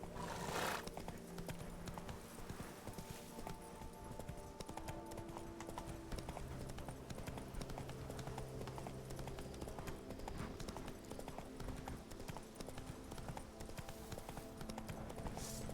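Horse named Roach in a video game, steady rhythmic clip-clop of hooves galloping throughout with an occasional whinny, mid-distance and fairly faint.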